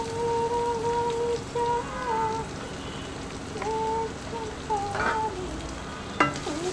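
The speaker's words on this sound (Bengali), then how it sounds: "তারপরে দিয়ে দিলাম কড়াইতে তেল দিয়ে দিলাম রসুন আর পেঁয়াজ।" Garlic and onion fry in oil in a wok, a soft, rain-like sizzle with occasional stirring scrapes and clinks, steady and close, with faint tonal background sounds and no one talking.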